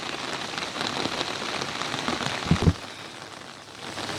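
Steady, heavy rain pours down over rice fields in Thailand in a dense hiss, with a couple of brief low thumps partway through.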